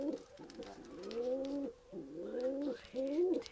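A caged pigeon or dove coos in repeated drawn-out calls, three or four phrases in a row, close by and fairly quiet with little background noise.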